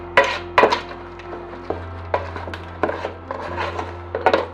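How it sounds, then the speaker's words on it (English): Abacha ingredients being stirred together with a utensil in a pot or bowl, giving intermittent clinks and scraping knocks that land irregularly against a low steady hum, close and moderately loud. "Continue stirring until everything mixes properly."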